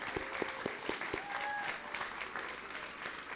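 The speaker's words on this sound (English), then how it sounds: "Let's give the Patriots staff and students a round of applause" An audience at an elementary school's 10th anniversary celebration applauds the school staff and students, giving a few distinct claps followed by a steady wash of clapping.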